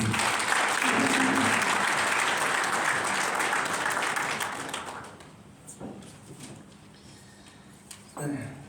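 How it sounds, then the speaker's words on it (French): Audience applause during a cardinal's visit to a hospital in Burkina Faso, dense clapping that holds for about five seconds and then thins out to a few scattered claps. "Mesdames et messieurs, on va encore applaudir pour le Père de Frédéric."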